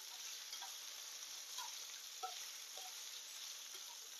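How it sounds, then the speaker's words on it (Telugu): Potato chunks stirred through hot oil over a medium flame, a faint, even frying hiss with a few soft scrapes and ticks of the spoon. "సో ఈ మొత్తాన్ని ఆయిల్లో బాగా ఒకసారి కలిగి పెట్టుకోవాలి"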